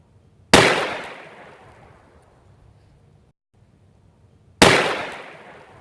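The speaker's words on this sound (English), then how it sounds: "last one for today is a 1-gallon jug of water versus 308" Two sharp, loud .308 rifle gunshot cracks about four seconds apart, fired at a one-gallon water jug, each followed by a long rumbling decay, with no voices.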